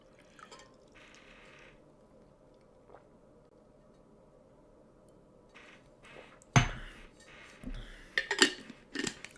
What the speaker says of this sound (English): just getting my water here